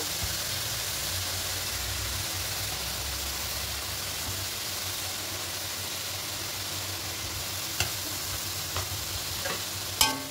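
Palm fruit pulp mixture being stirred for steamed palm pitha, a steady close scraping and swishing with a few sharper clinks near the end.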